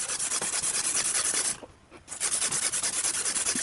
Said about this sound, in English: sandpaper or emery cloth or whatever you want to call it, and we have to clean this up good